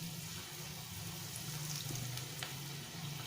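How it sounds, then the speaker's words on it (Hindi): Mixed vegetable pakoras sizzle in hot oil with a dense, steady crackle close by, with no talking over it. "अब हम पकोड़े फ्राई करेंगे।"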